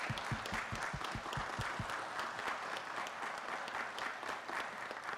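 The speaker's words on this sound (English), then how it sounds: "Let's give her a big round of applause." Steady applause from a council meeting audience fills the room for about five seconds, dense and even, with a few low thumps near the start and no talk over it.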